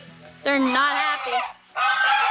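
Geese at a family outing in Tagaytay Highlands give a few loud, close honks in two bursts separated by a short pause, with faint voices in the background.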